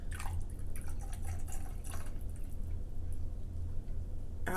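Tequila poured into a glass, a close, steady liquid trickle lasting a few seconds with a faint low hum underneath.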